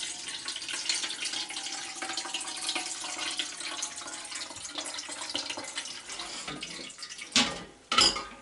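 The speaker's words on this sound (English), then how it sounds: "Put some cold water in here." Cold tap water running into a pot while making sheep's milk gouda cheese, a steady close splashing stream that fades toward the end, followed by a couple of brief clanks and splashes.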